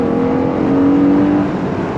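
Vauxhall Astra V6 engine on a race circuit, a steady, smooth engine drone with a rising and falling harmonic tone, as the car holds revs, loud and close, without talk.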